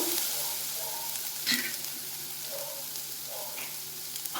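Sprouted horse gram sambar ingredients frying in a pan, a steady soft sizzle with a few light stirring scrapes, close and fairly quiet, no talking.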